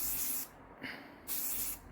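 Spray paint hisses from a can onto a rifle held about a foot and a half away, two close bursts separated by a brief pause, with no talk.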